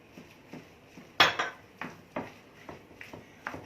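A spoon clinks and scrapes repeatedly against a bowl while a pepper and coriander mixture is stirred, roughly a dozen sharp taps at an uneven rhythm, one louder knock near the start, close and clear with no talk.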